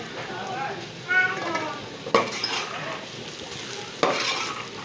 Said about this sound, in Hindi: अब इसी को थोड़ा सा भूनना है ताकि आलू में